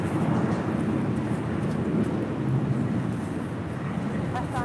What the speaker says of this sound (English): It's Japan Airlines Flight 61 heading back to Tokyo Narita on the